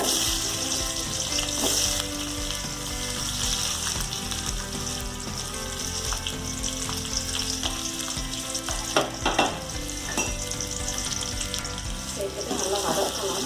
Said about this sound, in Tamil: இப்போ வெங்காயம் நல்லா வதங்கி வந்துருச்சு